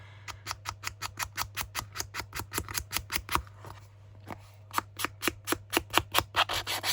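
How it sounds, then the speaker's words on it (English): Quick, rhythmic scratchy strokes of sandpaper rubbing back and forth along paper creases, close and fairly quiet, with a short pause partway through. "I'm going to just sand along the creases, because that tends to make it a little bit easier to fold"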